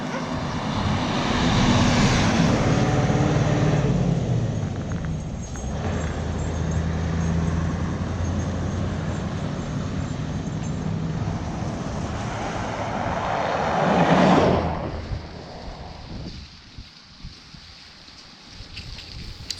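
Road noise from a vehicle driving the only road out of Komsomolsk in Siberia, a loud, steady roar and rumble lasting most of the stretch, swelling near the end before dropping to a quieter hum.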